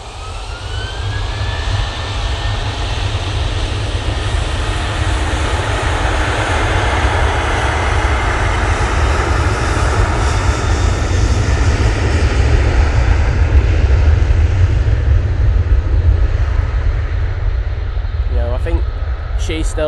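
A Ryanair jet departs Manchester Airport with a loud, sustained engine roar that holds steady for around twenty seconds, and a brief voice cuts in near the end.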